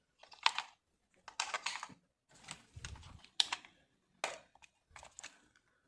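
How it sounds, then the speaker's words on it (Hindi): Small AAA batteries are pressed into a drone remote controller, a run of short plastic clicks and snaps in separate bursts, close and fairly quiet with no talking. "तो इसके अंदर जो है छोटे वाली सेल यानी कि AAA सेल इंसर्ट होने वाली है।"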